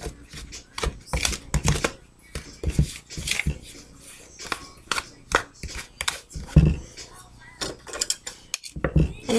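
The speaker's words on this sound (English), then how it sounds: "I'm gonna cut this butter in." Butter being cut into flour in a bowl for scones, a busy run of irregular scraping clicks and clinks of metal against the bowl, close and fairly loud with brief pauses between bursts.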